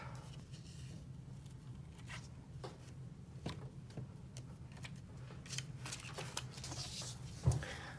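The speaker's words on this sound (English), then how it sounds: "I'm gonna go ahead and peel this off" Heat transfer vinyl carrier sheet is peeled off a pressed onesie, giving soft crinkly rustles and light ticking crackles that run continuously, close and fairly quiet.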